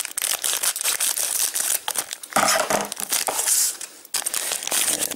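Loot Crate box packaging being opened, with crisp crinkling, crushing and tearing of cardboard and plastic close up, several sharp rustles and brief pauses, no talking.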